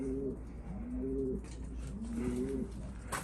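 Damascus pigeons coo in low, rolling phrases, three or four repeated calls spaced about a second apart, close by over a steady low background hum.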